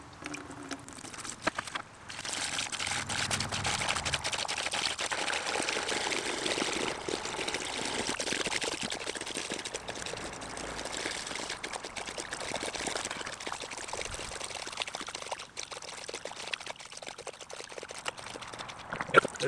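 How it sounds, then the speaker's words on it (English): During a spring-fed flow test for a kilowatt microhydro turbine, water pours from a pipe into a cracked, leaking bucket, bubbling as the line pulls in air; a steady, close splashing rush runs for about twenty seconds. "And we can see that it's bubbling because it's pulling air from above."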